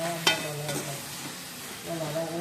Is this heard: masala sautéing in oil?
yes